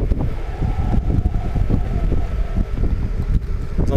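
Headwind roars across the microphone while riding a VSETT 8 600W electric scooter up a mild incline during a range test, a steady, loud broadband rumble with gusty buffeting and no speech.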